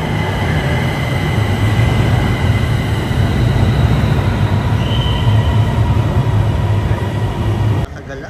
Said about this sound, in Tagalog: padating na yung train na papunta ng airport